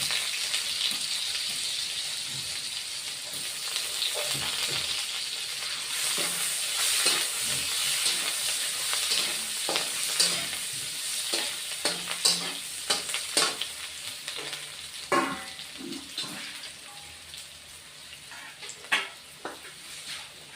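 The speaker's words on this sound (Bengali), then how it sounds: "মাছটা রান্না করব চারাপোনা মাছের পোস্ত দিয়ে" Small rohu fish (charapona) frying in oil with poppy seed paste, a steady close sizzle with scraping stirs and clinks of a spatula against the pan throughout, no voices.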